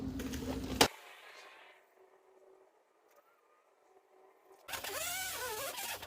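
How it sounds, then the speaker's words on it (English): A cutoff wheel slices through rusty sheet metal on a '69 Ford Econoline, a whining, grinding burst at the start and another rising, wavering whine at the end, separated by a near-silent gap. "So now I'm gonna cut that shape out"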